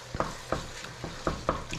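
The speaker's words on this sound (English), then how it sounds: "So I'm browning all the meat." Meat browning in a pan for chili, a steady close sizzle with regular spatula scrapes and stirring strokes about every quarter second.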